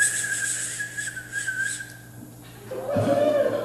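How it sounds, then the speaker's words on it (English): A person at an open mic night whistles on the inhale, producing a steady high whistle that shifts pitch and breaks off, then resumes lower near the end; airy and close, no speech. "one fun fact about me is when I whistle on the inhale"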